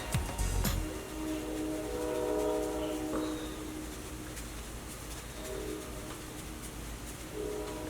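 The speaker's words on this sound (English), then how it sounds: "Yes, that's a train." A train rumbles past with a sustained low roar and a brief horn-like tone near the start, steady and fairly loud throughout.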